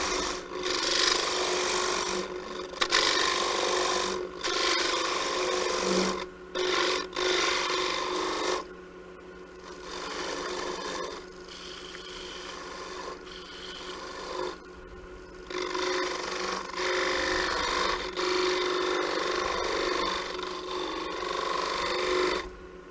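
Wood spins on a lathe while a spindle tool takes light cuts, giving a steady hiss and scraping rasp with brief gaps where the tool lifts away, the motor hum running beneath throughout.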